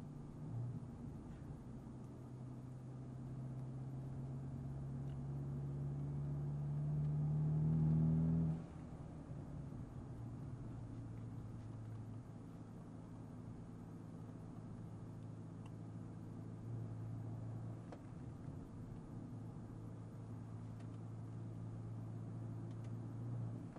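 A Mercedes CLA250 fitted with a Sprint Booster cruises along a residential road, its low engine hum and road rumble steady and close, swelling briefly as it speeds up before settling back to an even drone.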